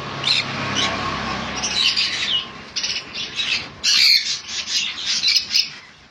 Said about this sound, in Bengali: খুব সুন্দর কোয়ালিটি পাইনাপেল কনুর ও ইয়েলো সাইড কনুর